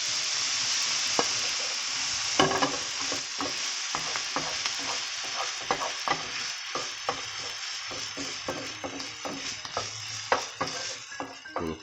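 Fried rice with soy sauce being stir-fried in a pan, a steady sizzle under repeated scraping and clinking strokes of a spatula against the metal, irregular and close, with no voices.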